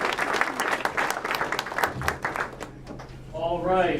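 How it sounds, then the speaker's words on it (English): An audience at a Burlington city council candidates forum applauds firefighters: a burst of dense clapping from a modest crowd, fairly close, mixed with scattered voices, easing off and then swelling again near the end. "Let's give our firefighters another round of applause."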